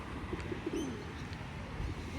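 Pigeons or doves coo softly a few times, fairly close, against a steady outdoor background hiss, with a faint chirp mixed in.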